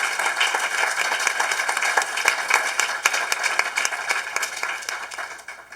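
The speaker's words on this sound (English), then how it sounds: "let's give him a round of applause before he leaves" An audience at a panel discussion event applauds someone: a continuous stretch of clapping with scattered sharper individual claps, holding steady before fading slightly at the close.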